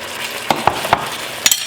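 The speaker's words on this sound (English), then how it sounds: "I'll give this a quick stir" Red pepper paste is stirred in a frying pan over low sizzling, with a few quick utensil scrapes and taps against the pan, close and brief.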